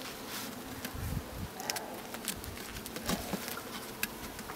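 Honey bees buzz in a dense, steady drone around a can where they are building wax, close and fairly quiet, with scattered light ticks and patters over the hum.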